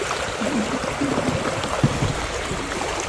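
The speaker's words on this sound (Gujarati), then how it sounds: "હા આ બધું પાણી છે ને હવે મોટરું ચાલુ છે." Water flows and gurgles steadily near running village pump motors, a dense continuous wash of noise with small splashes, no voices.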